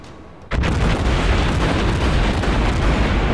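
In the game World of Warships, a sudden heavy warship cannon blast at the start, followed by sustained roaring booms and rumble from continued firing, loud and close.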